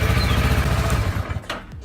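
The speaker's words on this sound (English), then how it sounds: "Let's start the engine." Kawasaki ER6N parallel-twin motorcycle engine running loud and close with a steady low throbbing rumble, then a brief dip and revving change near the end.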